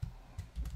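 Several soft keystrokes are tapped on a computer keyboard, quiet and close, spread over less than a second.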